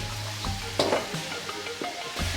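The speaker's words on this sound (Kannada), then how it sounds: "ಈ ಈರುಳ್ಳಿ ಫ್ರೈ ಆಗಲಿ" Chopped onions and mustard seeds fry in hot oil for vangibath with a lively, close sizzle, punctuated by several scraping stirs of a spoon in the pan.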